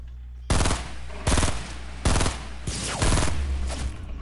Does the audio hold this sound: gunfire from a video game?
yes